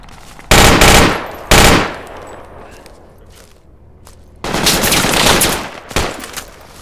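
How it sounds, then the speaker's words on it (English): Gunfire in the Project Reality military shooter game, loud and close, comes as short bursts of rapid automatic fire. Two quick bursts are followed by a pause, then a longer burst and a final sharp shot. "I'm shooting at the tower."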